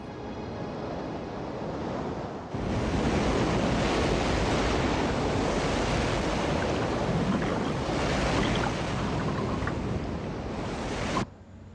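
Fast-moving tsunami seawater surges in a loud, continuous roar of crashing waves and rushing water, steady and dense for about ten seconds, with wind buffeting the microphone and no voices.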